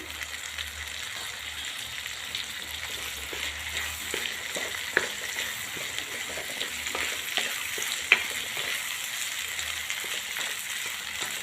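Onion, capsicum and tomato fry in a pan for butter corn bhurji, producing a continuous close sizzle with light stirring scrapes and two sharp clinks of a utensil, no voices.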